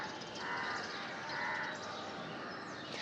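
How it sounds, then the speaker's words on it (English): Crows cawing outdoors during a morning yoga session, two rasping calls about a second apart, fairly distant and soft against quiet open air. "I can see so many birds around me"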